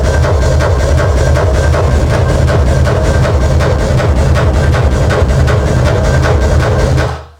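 Two DJ tracks play together with their beats slightly off in beat matching, so the kicks land as a blurred, doubled thump under a dense, loud, continuous dance mix with no talking.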